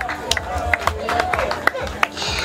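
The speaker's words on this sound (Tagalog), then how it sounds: "Pwede po ba tayong pumalakpak dyan?" A campaign event crowd claps in scattered, irregular bursts over a murmuring babble of voices, with sharp hand claps standing out near and far.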